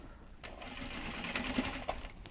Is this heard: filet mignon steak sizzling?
no